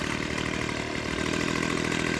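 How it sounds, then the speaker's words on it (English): A small 25cc two-stroke weed eater engine runs nearby with a steady buzzing drone, rising slightly in intensity toward the end and heard alone without talk. "We are gonna chop these weeds with my Pull-On Pro 25cc engine."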